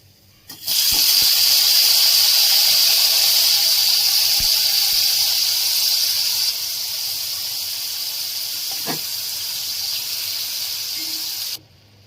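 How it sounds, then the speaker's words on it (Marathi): Paneer dropped into shallow hot oil, a loud steady sizzle and hiss that starts abruptly, eases slightly partway through, then cuts off, with a few faint clicks of a utensil. "तर आता आपण पनीर फ्राय करून घेणार आहे याच्यामध्ये"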